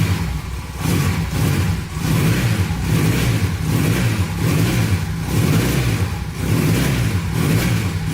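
A free Honda motorcycle that has just started runs loud and close, its engine revving steadily under throttle with a rhythmic pulsing drone and slight dips. No one talks.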